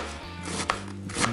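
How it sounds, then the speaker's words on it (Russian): Onion being cut into half-rings with a knife in a home kitchen while preparing Korean-style herring, giving a few close, soft knife taps on a board over a low steady background hum. "Так, я нарезаю лук."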